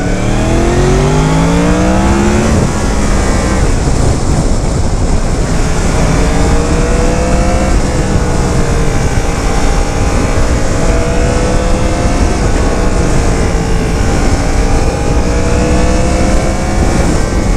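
A 2017 Yamaha FZ-10 motorcycle on its stock exhaust, ridden on a smooth road, its engine loud and close, revving up through gears with rising whines and steady high-rpm drone throughout.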